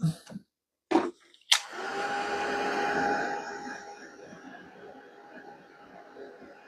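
A hair dryer starts after a few brief knocks and blows steadily on a wet watercolor painting of a snowman couple, a strong airy whoosh that gradually softens. No one speaks.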